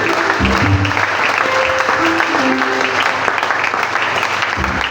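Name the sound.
church congregation applauding to praise the Lord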